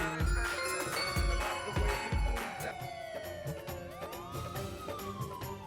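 An ambulance siren sounds in a residential housing society, its wailing tone gliding down and up in long sweeps, loud and continuous, with a few heavy low thumps near the start.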